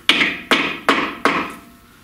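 Four sharp hammer taps drive an axle oil seal into the tube-type rear axle of an MGB, close and evenly spaced, with each metallic strike ringing briefly before it fades.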